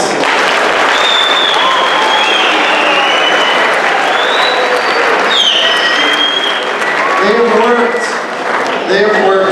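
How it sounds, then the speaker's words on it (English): An audience applauds a school district mascot presentation in Mosinee with sustained, dense clapping that fills the whole stretch, with voices and cheers mixed through it. "Let's give them a round of applause."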